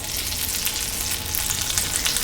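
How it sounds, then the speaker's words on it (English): Butter melts in a preheated pan on the stove, giving off a close, steady crackling sizzle with dense spitting pops that continues evenly throughout. "My pan is preheated. I'm going to melt some butter in there."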